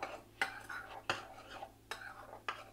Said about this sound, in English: So it says combine that well, stir it all up.